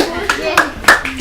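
Applause from a small audience at a French event show, arriving in short bursts of claps over about a second, near and fairly loud, while a voice speaks over them.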